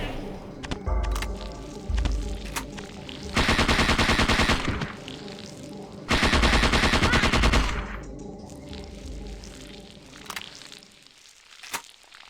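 Rapid automatic gunfire from the video game Parasite Eve 2 comes in two long bursts, with shorter shots, clicks and clatter around them.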